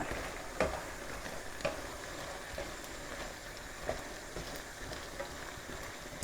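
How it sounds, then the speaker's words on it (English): Pork pieces frying in a pan for Cantonese sweet and sour pork, a soft steady sizzle with regular scraping stir strokes roughly once a second, fairly quiet and without talk. "So now we're going to get our pork pieces. We're going to chuck them in and have a good old stir."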